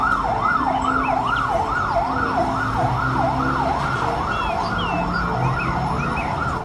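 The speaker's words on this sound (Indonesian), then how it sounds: "Wih, kalau yang ini mobil pemadam kebakaran." A fire truck siren wails, sweeping up and down continuously in a steady, rapid cycle, loud and close, with a low engine-like hum beneath.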